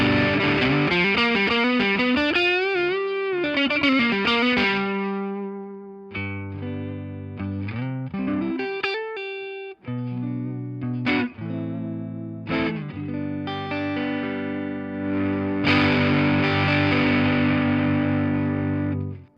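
Electric guitar played through a Warmdrive Amp-In-A-Box overdrive pedal, first a sustained gritty riff, then clean-ish chords with pauses, then a thicker distorted chord strum at the end, loud and close with no talking.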